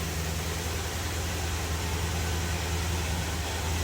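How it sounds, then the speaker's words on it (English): An Oldsmobile engine idles steadily, running slightly rich, with a constant low exhaust rumble and broadband hiss, running evenly throughout with no voices. "Exhaust sounds nice."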